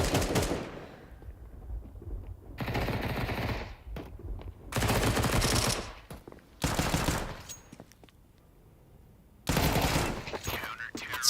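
Fast bursts of Five-SeveN pistol fire in Counter-Strike during a PGL Cluj-Napoca match. Several loud volleys come in separate clusters with quieter gaps, and a caster talks faintly over the action.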